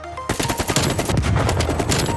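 Rapid automatic AK rifle fire in the shooter game Black Ops Cold War, a loud sustained burst of closely spaced shots that begins abruptly after a brief pause and rattles on continuously to the end.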